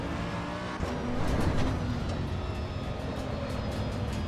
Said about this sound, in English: The engine sounds good in this game.